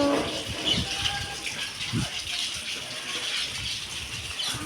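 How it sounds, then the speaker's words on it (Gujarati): Heavy rain sends water rushing along a road and pouring from rooftops, a steady, continuous broadband gush and splash nearby, with faint birdsong in the background. "આ જો રોડ ઉપર પાણી વહી ગયા, જુઓ કેટલો ફૂલ વરસાદ હે"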